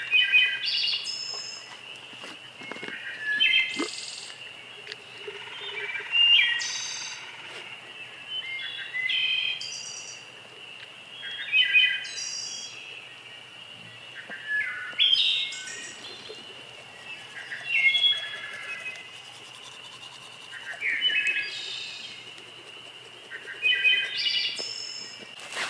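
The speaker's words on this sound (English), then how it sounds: "I don't know what that bird is, but it sounds digital, like a synthetic bird." A wild bird sings repeatedly at a campsite in the wilderness, its bright, tonal, electronic-sounding phrases recurring every few seconds over quiet background with faint insect hum.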